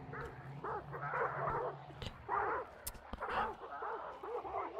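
Dogs bark and yip repeatedly in Hunt Showdown, a rapid, uneven run of short barks at moderate distance mixed with game ambience and faint low rumble.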